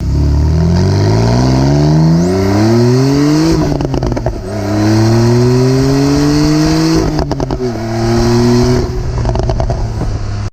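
A 2017 Porsche 911 Carrera with a seven-speed manual and the sport exhaust on accelerates hard onto a highway. Its engine note climbs loud and close through three rising pulls, with gear shifts in between.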